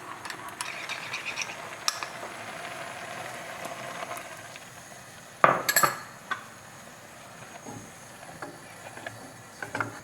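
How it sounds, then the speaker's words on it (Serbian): Rice flour being stirred into a little water for a chilli sauce, quiet faint scraping with a sharp clatter of a utensil midway and a few softer knocks after. "Sa malo vode razmutit ćemo pirinčano brašno"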